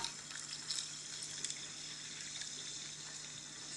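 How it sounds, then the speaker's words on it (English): A soft, steady fizzing pour of soda water over crushed ice and lemongrass, faint and continuous with a few small crackles, no voices. "Topping my lemongrass and my crushed ice just with soda water."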